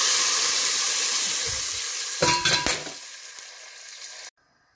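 Water is poured into a hot pan with burnt onions, setting off a loud, steady sizzle, then a few harsh bursts of sputtering hiss before the sound cuts out abruptly.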